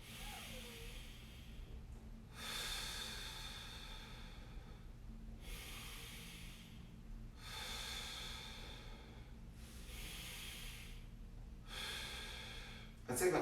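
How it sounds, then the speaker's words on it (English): Deep breathing during a mobility stretch for the neck, feet and low back: five long, airy breaths in and out at a slow, even rhythm, close and soft, with no talking. "all we're going to do is take a nice deep breath in"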